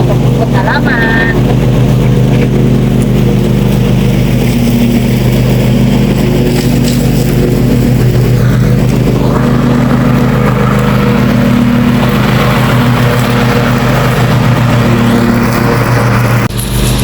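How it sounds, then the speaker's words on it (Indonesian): A grass-cutting machine drones loudly and continuously while mowing a home yard, its steady engine hum dominating the whole stretch with slight changes in pitch. "menggunakan mesin seperti ini teman-teman ya, memotong rumput halaman"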